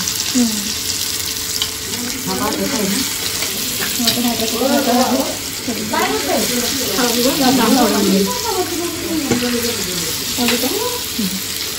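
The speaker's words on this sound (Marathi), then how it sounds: "तेलामध्ये ना आम्ही हलवा फ्राय करून घेतो" Fish frying in hot oil in a home kitchen, a steady sizzle running throughout while people talk over it nearby.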